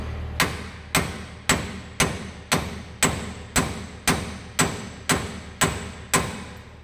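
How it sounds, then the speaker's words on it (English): Hammer blows strike the steering arm of an M35 truck to free it from the steering knuckle, landing as about eleven sharp, loud metallic strikes at a steady one-per-second rhythm, close up, each ringing briefly before the next. "every time you hit the steering arm on the side, it pushes the bushing up on the stud"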